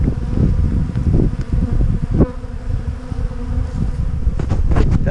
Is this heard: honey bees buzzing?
yes